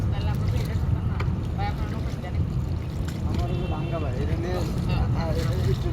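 A boat travelling on the Dhaleshwari river, its steady rushing water and wind noise loud and continuous, with people talking over it throughout.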